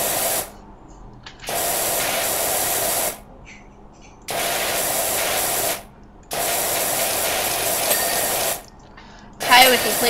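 Pressure washer spraying a car through a 25-degree nozzle, loud hissing bursts of water that switch on and off in several spells of about one to two seconds, with quieter gaps between.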